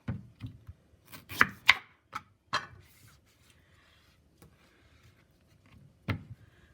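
A knife cuts off the tip of a plantain on a board, giving a few quiet, crisp chopping taps in quick succession, then one more sharp tap after a pause.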